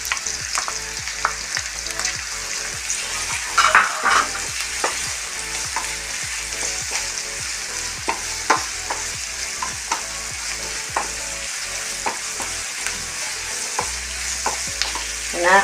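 Ginger garlic paste fries steadily in a pan with a constant sizzle, while a spoon scrapes and stirs through it in regular, repeated strokes, close and moderately loud.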